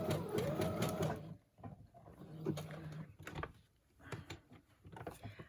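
A sewing machine stitches through a traveler's notebook page in short bursts of quick mechanical chatter, stopping and starting, with a voice briefly in the background.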